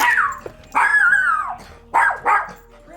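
A dog close by gives a series of whiny, high-pitched barks and yips, about four in three seconds, with short pauses between.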